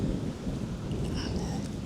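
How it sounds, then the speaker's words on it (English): Rolling thunder rumbles low and steady through a rainstorm outdoors, with a continuous wash of rain noise filling the background the whole time. "Now you can hear the roar of the thunder a little bit in the background."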